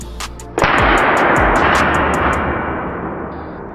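A PCP Rahwana big-game air rifle fires one loud, sharp shot that rings out with a long decaying echo, preceded by a run of faint rapid ticks.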